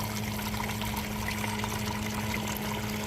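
Water pumped over a gold sluice box while paydirt is run through it, heard as a constant close rush and splash of flowing water, steady throughout with no voices.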